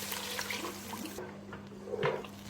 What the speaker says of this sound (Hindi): साथ ही हम इसके अंदर हाफ ग्लास पानी डाल देंगे।